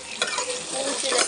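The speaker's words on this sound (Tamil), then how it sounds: "கடலைப்பருப்பு, உளுத்தம்பருப்பு, பூண்டு, ஒரு மிளகா, வெங்காயம் எல்லாம் போட்டு வதக்கிடணும்." Chana dal, urad dal, garlic, a chilli and onion sauté in hot oil, giving a steady, close, broadband sizzle with soft stirring scrapes throughout and no voices.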